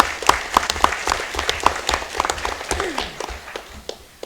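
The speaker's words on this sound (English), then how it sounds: "So a round of applause to them." Applause from students and parents at a school board of education meeting, a brief burst of clapping with a few sharp distinct claps, fading out within a few seconds.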